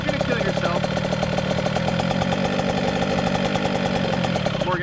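Yamaha YZ dirt bike, a 2021 YZ85 or 2018 YZ65, revving steadily with more throttle in a continuous buzzing engine drone, close and loud throughout.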